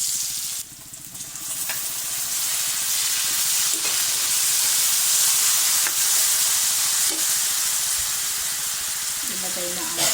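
Garlic and onion sauté in pork fat in a pan with a loud, steady sizzle and hiss throughout, broken by a few soft clinks of stirring.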